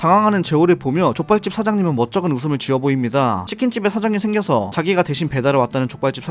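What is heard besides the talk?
No everyday noise stands out behind the speech.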